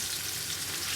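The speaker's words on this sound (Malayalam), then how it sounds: "ഉള്ളി നല്ല വാർന്ന വരെ ഇങ്ങനെ ഇളക്കി ഇളക്കി കൊടുക്കണം" Onions fry for biryani with a steady, close hiss of hot oil. The soft, even sizzle runs without breaks and no one speaks.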